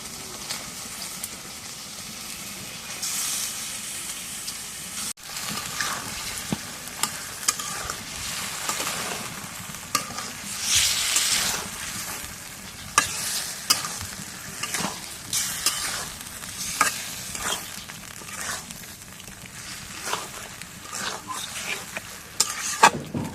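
Meat frying in a spiced masala that has already been cooked down, stirred steadily in the pan with a constant loud sizzle and repeated scraping clicks of the spoon, with no talking.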